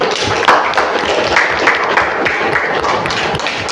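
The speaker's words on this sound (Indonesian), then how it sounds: "Oke, baik, tepuk tangan untuk Anissa." A class of students applauds during a school lesson on diversity, a dense patter of hand claps lasting a few seconds at steady loudness, close and fairly loud.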